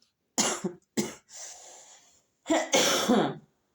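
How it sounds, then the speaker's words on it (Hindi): Several harsh coughs come in quick bursts, a short pause with a raspy breath, then another cluster of loud close coughs. "सॉरी, तो खांसी बड़ा परेशान कर रही है"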